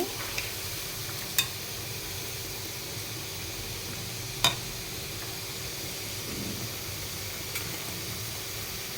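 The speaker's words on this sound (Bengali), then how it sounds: "এবার একটা খুন্তির সাহায্যে ভালোভাবে নেড়ে ছেড়ে নেব" Sweet palm pitha frying in oil, a steady even sizzle filling the whole stretch, with a couple of faint clicks and scrapes from a spatula stirring the cakes in the pan.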